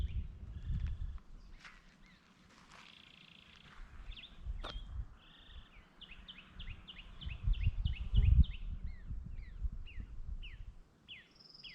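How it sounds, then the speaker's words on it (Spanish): Small birds chirping in Sequoia National Park among giant sequoias, quick high tweets and a long repeated series of sharp chirps in clear outdoor air, with some rustling and low rumbles in between. "¿Escuchan los pajaritos?"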